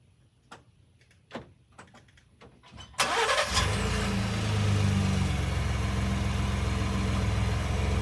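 A few clicks and clunks, then a Ford F-150 pickup's stock 2.7 EcoBoost engine cranks and fires, settling into a steady, fairly quiet idle through factory exhaust.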